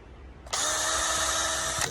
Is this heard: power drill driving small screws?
yes